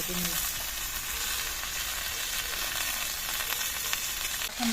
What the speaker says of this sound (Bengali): পেঁয়াজ লঙ্কা ভেজে দিই শাকগুলো দিয়ে দেবো